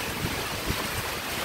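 Heavy rain falls in the Sertão of Paraíba as a brief, dense and steady hiss of broadband noise with no voices.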